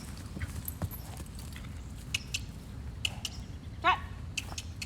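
A horse trots over ground poles in a round pen, its hoofbeats landing as a quiet, irregular run of soft thuds, with a sharper clunk near the end, probably a hoof striking a pole.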